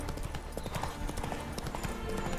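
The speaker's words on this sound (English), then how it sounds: "انطلاق الحصان بسرعة، اضغط مرتين" A horse named Roach gallops in a video game, its hooves beating a quick, steady clip-clop rhythm at moderate volume with a faint voice in the background.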